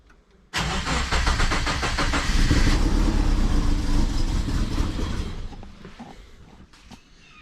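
Twin-turbo Subaru engine cranks and fires abruptly after a brief quiet, then settles into a loud, rough, pulsing idle that fades somewhat toward the end; no one speaks.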